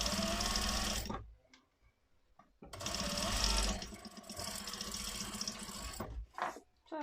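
A sewing machine stitches down corset fabric in two loud, steady runs with a brief pause between them, then a short quieter burst near the end, with no talking.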